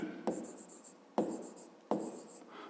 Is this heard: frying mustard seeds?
no